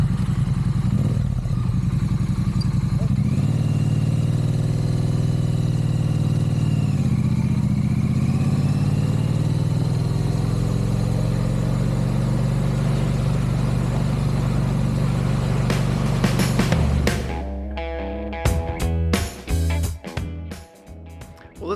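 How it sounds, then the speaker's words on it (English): A 2017 Triumph Street Twin 900 retro roadster's parallel-twin engine hums steadily while riding, a continuous loud drone with wind rush that gives way to clattering bumps and handling noise near the end. "the Street Twin that I'm riding and talking about today"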